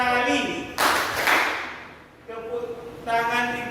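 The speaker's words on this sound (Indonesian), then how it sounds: "Ayo tepuk tangan 2 kali" A class of pupils clap their hands together twice on a teacher's command, producing a short burst of group clapping set between stretches of spoken instruction in a classroom.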